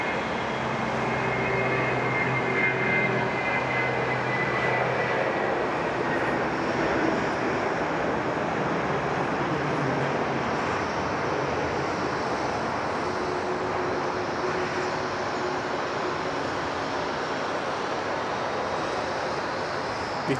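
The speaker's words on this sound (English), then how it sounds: "We've got another Jetstar 320 on the roll." A Jetstar Airbus A320 rolls for takeoff at Sydney Airport, its engines a steady, broad distant roar sustained throughout without any talk.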